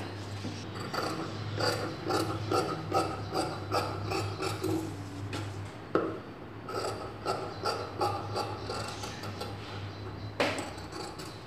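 Scissors snipping through blouse fabric along a drawn sleeve pattern, a quiet, close run of rhythmic crisp cuts and rustles over a low background hum, no speech.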